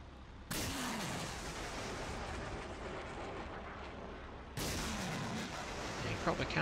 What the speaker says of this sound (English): let's jump back into the M270 and we'll fire for effect